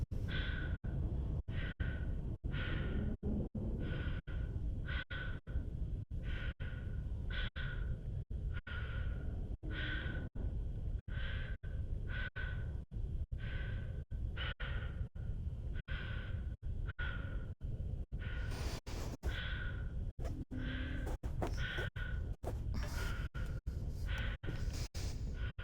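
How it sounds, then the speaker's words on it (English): A Mass Effect 2 character breathing slowly and heavily, a long series of regular sighing inhales and exhales in a steady rhythm, close and alone against near silence. "I love that all the noise disappears except for your breathing."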